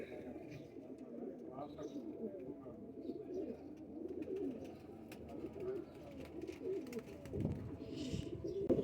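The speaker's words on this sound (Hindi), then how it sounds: "ये हरा कबूतर है पट्टी वाला" Pakistani striped pigeons coo softly in low, rolling murmurs, many birds at once with a busy flock hubbub and occasional rustling.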